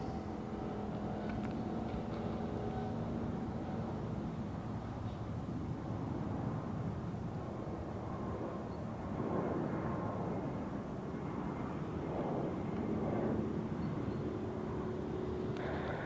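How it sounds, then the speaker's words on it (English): A Boeing 777 taking off at Zurich Airport produces a distant, steady jet roar with a low rumble and shifting tonal whine, slowly swelling and fading slightly as it passes, heard from afar with no voices. "Now takeoff for the 777 to Los Angeles."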